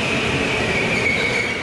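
Go-kart tires on a concrete track give a sustained high-pitched squeal that holds steady and loud over a rough rumbling roar, with no talk.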